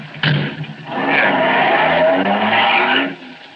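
Radio-drama sound effect of a car pulling away with skidding, squealing tires, loud and close, an engine roar swelling and sustained for about three seconds after a short opening burst.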